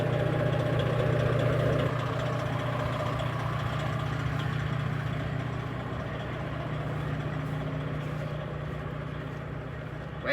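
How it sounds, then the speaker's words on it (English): A bulldozer engine runs outdoors at a steady, loud idle with a strong low hum, continuous for the whole stretch without clear revving changes; no voices are heard. "You had to move the bulldozer because he's fixing to clear all that out."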